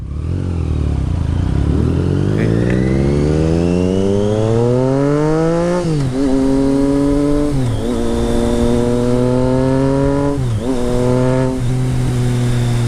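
A Triumph Street Triple motorcycle fitted with a Racefit Growler straight pipe exhaust roars loudly as it climbs through the revs, with quick-shifted gear changes dropping the engine pitch several times during hard acceleration on a ride.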